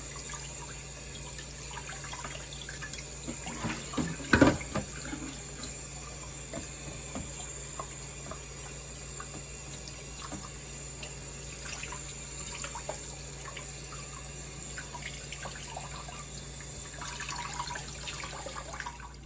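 Pompano fish being washed under a running kitchen tap, a steady hiss of flowing water with a louder splash near the middle as the fish is handled.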